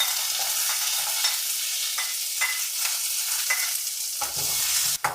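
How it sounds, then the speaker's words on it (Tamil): Chana dal and urad dal fry in sesame oil, giving a dense, even sizzle with periodic scraping strokes of a spoon in the pan, close and loud, ending in a sharp clunk. "இப்போ ஒரு சட்டியில் 1 டீஸ்பூன் நல்லெண்ணெய், கடலைப்பருப்பும் உளுத்தம்பருப்பும் போட்டு பொரிய விடலாம்."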